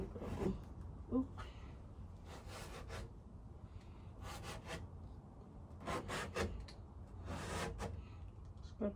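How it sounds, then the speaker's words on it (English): A putty knife or scraper drags across a camper's surface to remove excess filler, giving repeated rasping, rubbing strokes in short bursts at close range, with faint movement and handling noises between passes. "Scrape off the excess."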